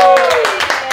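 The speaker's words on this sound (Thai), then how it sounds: "ขอเสียงปรบมือนะ" Applause from an audience at a Thai New Year party contest, a dense burst of clapping that fills the second, loud and close, with voices mixed in.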